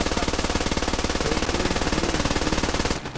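Rapid sustained automatic gunfire in a video game, a dense steady stream of loud shots for about three seconds that then cuts off abruptly.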